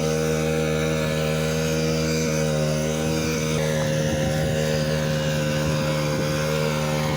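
A steady engine drones throughout, a constant low hum with a rough mechanical rumble and no pauses.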